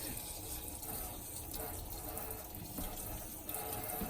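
Running tap water pours steadily over alginate dental impressions being rinsed at a sink, a continuous close splashing hiss with no talking.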